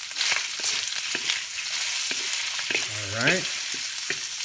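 Pork belly fries and is stirred in a pan, a constant close sizzle with repeated scraping strokes, and someone speaks briefly over it.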